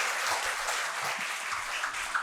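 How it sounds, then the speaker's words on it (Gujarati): An audience at a Gujarati lecture and honouring ceremony claps in a steady, dense wash of applause that sounds fairly distant and soft, with no talk over it. "એકવાર તાળીઓથી સાહેબને વધાવીએ"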